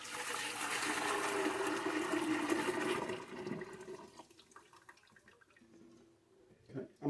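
Chicken broth for Polish rosół pours back into a cooking pot with a steady splashing, gushing stream of liquid for about three seconds, then tapers off into a few soft drips and light knocks.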